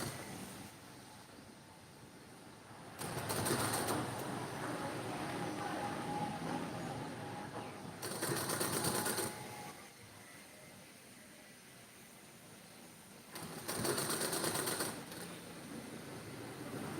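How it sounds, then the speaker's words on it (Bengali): A sewing machine stitches a front neck design in short bursts, three brief runs of rapid mechanical whirring separated by quiet pauses, fairly faint. "এইভাবে এখান থেকে ধরবো, ধরে সেলাইটা শুরু করবো।"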